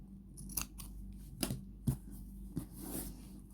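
Scissors snipping through crochet yarn tassel loops, several distinct close cuts spaced irregularly over a quiet background with light rustling of yarn.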